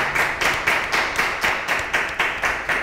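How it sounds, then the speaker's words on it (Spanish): At a school artistic gala, an audience claps together in a steady, rhythmic beat of about four claps per second, loud and even, with no voices over it. "así que reiteramos el aplauso para ella"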